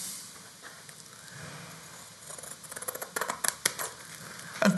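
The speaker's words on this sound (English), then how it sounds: "Out come your scissors." Scissors snip through a strip of wallpaper during paper hanging, a quiet rustle of paper at first, then a run of crisp, close cutting snips that grow louder toward the end.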